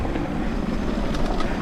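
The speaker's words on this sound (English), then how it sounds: "there's a helicopter taking up something to work on the lifts" A helicopter flies up into the Swiss Alps near Blauherd and Sunegga, carrying equipment for work on the high ski lifts. Its steady, fairly faint rotor thrum carries from a distance, with no one talking.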